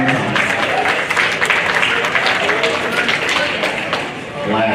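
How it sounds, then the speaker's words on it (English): Crowd applause at a junior livestock show, following a competitive Yorkshire hog class, fills the space with steady clapping, dipping slightly near the end, while voices murmur underneath. "Big round of applause."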